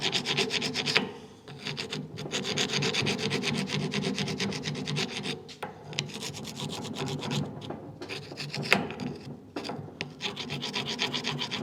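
A hand file rasps rust off the rear disc brake parts of a 2016 Chevrolet Suburban: continuous, close scraping strokes with a few brief pauses, and no talking.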